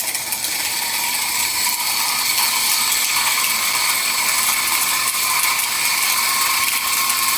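A Timemore Sculptor 064 electric coffee grinder runs steadily and loudly. Its continuous mechanical whir carries a rattling, ratchet-like texture, with no talk over it.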